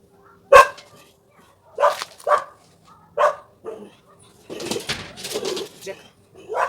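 A dog barks in several sharp bursts, spaced apart, with a few more yaps and some background noise around them.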